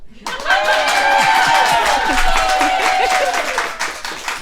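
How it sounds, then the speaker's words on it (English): A studio audience claps steadily and cheers with whoops and high vocal calls, loud and continuous, building quickly then holding, with some laughter mixed in. "maybe they could even clap once more and emit a few vocals"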